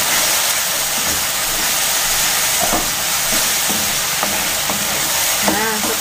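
Spicy beef and spring onions stir-fry in a pan with a loud, constant frying hiss, while a few soft utensil clinks and scrapes come through the noise.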